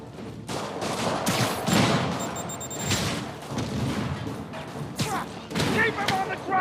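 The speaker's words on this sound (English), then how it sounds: "More rockets? A little excessive, don't you think?" Rockets go off in the Spider-Man PS4 video game as a dense run of booms and blasts over a busy soundtrack, loud and continuous, with game voices speaking over the mix.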